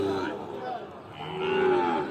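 Sahiwal bull calves stand at the Ambari livestock market in Parbatipur, Dinajpur. Two close, drawn-out moos follow each other with a short pause between them, with faint market noise behind.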